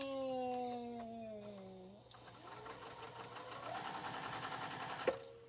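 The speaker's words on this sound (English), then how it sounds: "just sew on another piece of scrap" A sewing machine stitching a scrap of fabric runs steadily and close, with a fast even mechanical chatter that starts after a few seconds of sustained musical tones.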